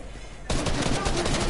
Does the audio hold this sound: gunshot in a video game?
yes